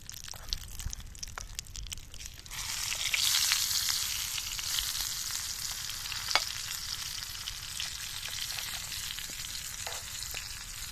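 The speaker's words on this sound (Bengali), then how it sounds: "বেগুনের এক পিঠ আমাদের ভাজা হয়ে গেছে তো আর এক পিঠ উল্টে দেবো" Brinjal slices sizzle and crackle steadily in a hot oil pan for a Bengali brinjal-and-egg omelette, with a louder burst of frying after the slices are flipped partway through and no voices.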